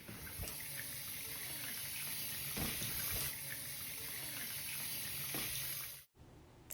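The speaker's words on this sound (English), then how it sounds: "the tap in the bathroom was running at full blast" A bathroom faucet gushes steadily at full force, a dense continuous rush of water close by, cutting off abruptly near the end.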